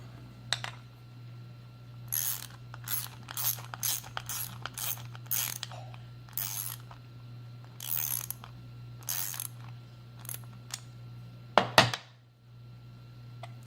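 Bolts on the plates of a MillRight Carve King CNC router being snugged with a ratchet, short bursts of clicking repeated through the clip over a steady low hum, with a sharper clatter near the end.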